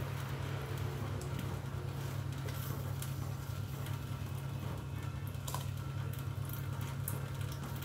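A pot of water with ground millet grits about to be added, at a steady rolling boil, with continuous bubbling and patter close by and no voices.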